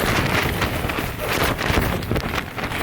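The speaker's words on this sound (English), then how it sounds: "I'd also like it to stop being this windy." Strong storm wind roars and buffets against the microphone in a continuous, gusting rumble at a campsite, loud and close with no voices.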